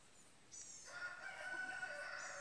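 A rooster crows once, faint and distant, in a backyard chicken pen of silkies; the call rises and holds for about two seconds with no talk.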